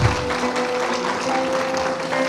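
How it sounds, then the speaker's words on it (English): Audience at a speaker series gathering applauds in a sustained, dense wash of clapping that holds steady throughout without talk. "let us clap and just appreciate this great gift of today"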